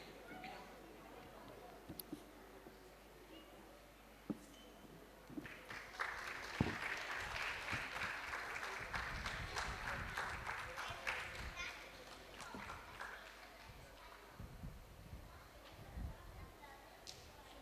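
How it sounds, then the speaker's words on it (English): At a school awards event, an audience applauds a silver medal winner, a sustained round of clapping in a room that swells and then fades, with some voices around it. "Let's have a huge round of applause for him."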